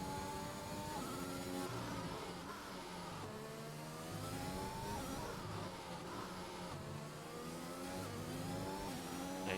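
A Formula 1 car in a racing game sweeps through a lap of the Russian Grand Prix, its engine screaming steadily with repeated rising and falling gear-change sweeps, loud and continuous with no talk over it.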